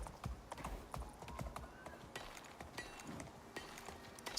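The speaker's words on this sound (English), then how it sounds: "There's a baby horse outside." Horse hooves clip-clopping in the survival video game Icarus, a young horse's repeated hoof strikes in an irregular trotting rhythm amid busy game ambience and occasional sharp clicks, moderately close.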